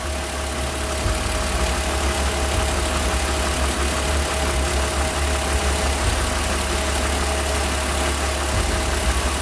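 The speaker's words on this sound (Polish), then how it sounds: "silnik już pomału przygasa" A car engine running on fuel fumes idles steadily with a low, even rumble and slight knocking vibration, close and continuous throughout.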